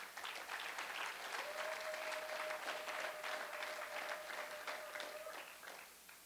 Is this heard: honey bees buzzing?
no